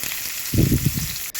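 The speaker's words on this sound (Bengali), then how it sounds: "বাকি সবজিগুলো আছে পেঁপে আলু মূলো রাঙালু এগুলো আমি লবণ দিয়ে সারা করে ভেজে নেব" Salted chunks of papaya, potato, radish and sweet potato fry in a wok with five-spice seeds and bay leaf for shukto: a steady close hiss, then a short, heavier burst of sizzling and clatter as the vegetables shift.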